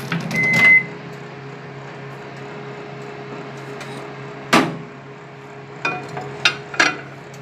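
Oven controls being set to 12 minutes for baking chocolate cupcakes, an opening electronic beep and hum, then a few sharp clicks and beeps from button presses over a steady background drone, with no talk.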